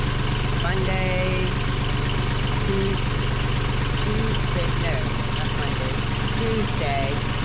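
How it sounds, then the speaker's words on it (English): A boat engine runs steadily near Vernal Beach after repairs, a constant loud low droning hum that continues throughout, with a person talking over it. "I did get my engine going"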